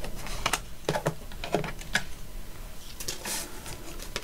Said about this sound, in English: now we're ready to cut our